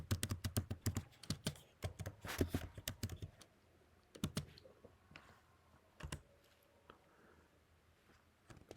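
Password typed on a computer keyboard, quick bursts of close, crisp key clicks separated by short pauses, then a few scattered taps toward the end, no talking.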